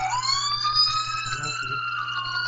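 Emergency vehicle sirens wail outside, a rising and falling tone held steady for the whole stretch, heard from a porch at moderate distance over a low background hum.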